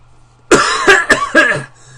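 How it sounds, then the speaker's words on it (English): A loud, close fit of coughing: three or four harsh coughs in quick succession over a quiet, humming background. "it's important to cough extremely loudly"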